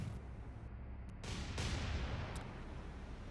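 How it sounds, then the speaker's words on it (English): Warship main guns fire HE shells in War On The Sea during the Battle of Sunda Strait: a couple of heavy booming blasts roll out over a steady low naval rumble, each discharge swelling and then fading into the background. "we want the main guns to go back to HE and fire"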